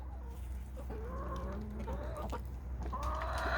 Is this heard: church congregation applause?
no